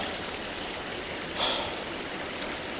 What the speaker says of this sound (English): So here's the wee waterfall that I just got soaked for.